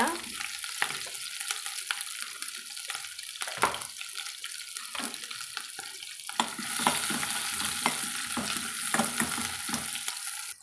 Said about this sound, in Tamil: வெங்காயம் பச்சை மிளகா கருவேப்பிலை எல்லாத்தையுமே நம்ம சேர்த்துக்கலாங்க சேர்த்து நல்லா பொன்னிறமாக வதக்கலாங்க